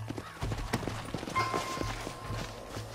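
Horses' hooves clopping in the Western video game Red Dead Redemption, a quick, uneven clatter of several riders slowing down, with a faint whinny and low rumbling background, and no talking.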